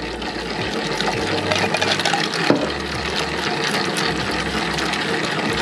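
More ice-chilled water is added to 80% hydration pizza dough in a running mixer, a steady pour and splash over the machine's rhythmic mechanical churning, close up with no voices.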